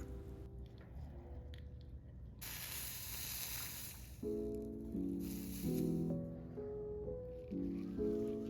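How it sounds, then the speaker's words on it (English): Solder flux sizzles and bubbles under a soldering iron on copper-foiled stained glass, with faint crackling and bursts of hissing spatter close by, coming in uneven pulses. "If it starts to bubble like that, just keep hitting it with your soldering iron until the bubble smooths out."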